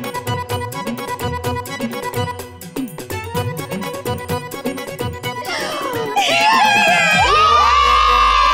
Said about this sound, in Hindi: हम लोग खुशी से चिल्ला रहे थे